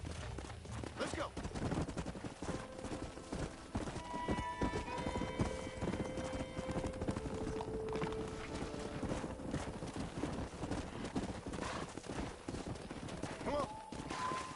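Steady clip-clop of galloping horses in the video game Red Dead Redemption runs throughout, mixed with game sounds, bursts of gunfire, and occasional voices talking over the action.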